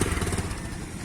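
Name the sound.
220 motorcycle engine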